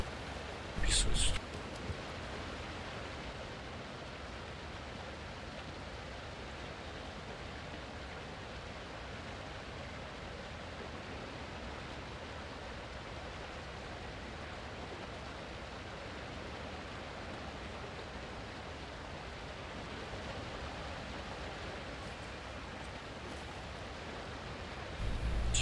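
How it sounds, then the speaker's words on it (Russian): Waterfall ambience in the video game Alan Wake 2 fills the background as a soft, steady, rushing hiss, faint and unbroken, with brief louder bumps at the start and end. "Я слышу водопад."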